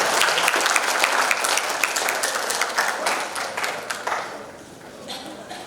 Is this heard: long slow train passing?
no